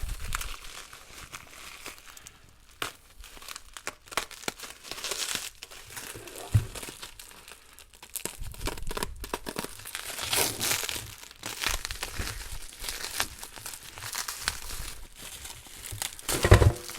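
Bubble wrap with tape on it crinkles and crackles for a long stretch, with bursts of rustling and occasional sharp pops and thumps close by.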